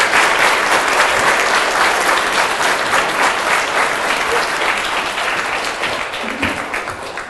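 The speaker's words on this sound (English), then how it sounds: "Big round of applause." A school audience at a DARE program event, with fifth graders present, applauds loudly and steadily for several seconds, the dense clapping tapering off slightly toward the end.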